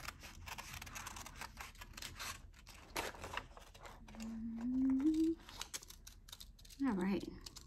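Faint crisp snipping and rustling from scissors cutting tutu material close by, with soft scrapes and a couple of brief voiced hums in between.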